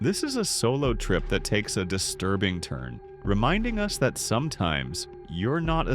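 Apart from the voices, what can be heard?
No everyday noise stands out behind the speech.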